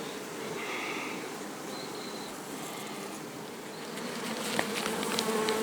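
A dense, steady buzzing of many honey bees fills the air around a hive, close and continuous with no voices.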